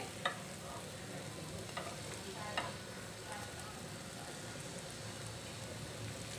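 Chopped chicken stirred into spices in a pan for chicken tikka samosa filling, a faint continuous sizzle with occasional soft scrapes and taps of a utensil.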